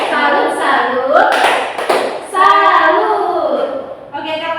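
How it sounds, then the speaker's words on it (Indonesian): Children do the 'tepuk salut' clap, a few sharp hand claps mixed with chanting voices, close and lively, with an adult leading the rhythmic call-and-response. "sekarang kita tepuk salut untuk kita semuanya"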